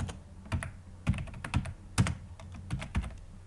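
Typing on a computer keyboard while working in MS Word: a close, irregular run of crisp keystrokes with short pauses between bursts, heard alone.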